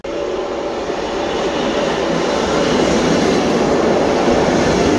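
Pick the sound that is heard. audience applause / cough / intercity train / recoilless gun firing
intercity train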